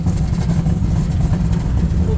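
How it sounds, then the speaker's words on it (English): A 1964 Chevy Suburban engine with an Edelbrock AV2 carburetor idles steadily with a low, continuous rumble, heard close and loud throughout. "Come on, Chevy. Wake up. You run good at an idle."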